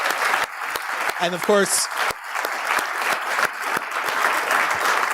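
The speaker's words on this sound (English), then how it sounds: "let's give a round of applause to our legislative champions" Steady applause from an audience at a religious freedom forum, honoring legislators, with a speaker's voice briefly talking over the clapping midway through.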